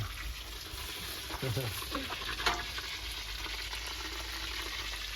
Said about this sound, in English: Some beef cooking up over here, guys.